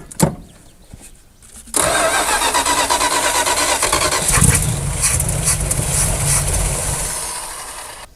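An abandoned Dodge Power Wagon service truck, off the road for at least 16 years, cranks briefly, then its engine catches and runs at a loud, steady, rough idle, close up and without talk.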